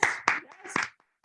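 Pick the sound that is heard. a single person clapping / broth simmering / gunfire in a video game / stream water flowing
a single person clapping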